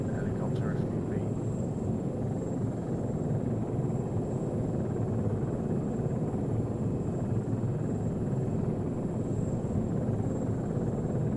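A helicopter in a military video game gives a steady, even rotor and engine drone that fills the whole stretch without letup, at moderate loudness.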